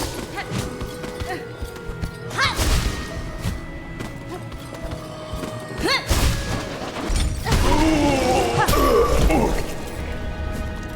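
Heavy crashes and thuds as a boss bursts apart in Hollow Knight: Silksong, several loud impacts spread across the passage with game effects, while a player talks over it.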